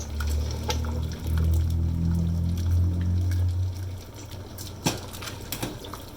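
Tonkotsu ramen soup poured through a mesh strainer, a close liquid pour with splashing, followed by a few sharp clinks of metal utensils and pots.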